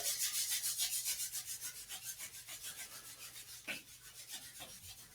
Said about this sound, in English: We do that by rubbing our hands together.